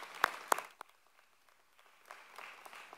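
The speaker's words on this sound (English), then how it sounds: "Round of applause for our guests." Audience at a Southside High School graduation ceremony clapping for PTA guests, a few sharp loud claps at the start settling into scattered, thinning applause in a large room.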